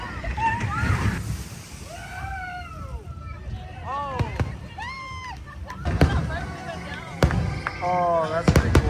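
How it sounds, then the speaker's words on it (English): A fireworks show at Disney World's Magic Kingdom: whistling rockets rise and bend in pitch, followed by sharp cracks and booms over a crowd's murmur, with bursts growing denser toward the end. "before they start the fireworks show"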